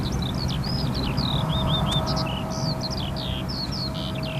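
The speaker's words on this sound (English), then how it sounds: "that sounds like a skylark to me" A skylark sings a rapid, continuous run of high chirping phrases near East Midlands Airport, heard over a constant low rumble of background noise.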